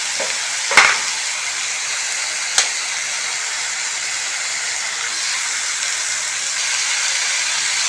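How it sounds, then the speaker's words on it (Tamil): Spinach and egg frying in a pan on low heat, a steady loud sizzle with a couple of sharp clinks of stirring near the start, no talking. "இது வழவழன்னு வரக்கூடாதுங்கிறதுக்காக நம்ம சிம்மில் வச்சு நல்லா ஃப்ரை பண்ணி எடுத்துக்கலாம்."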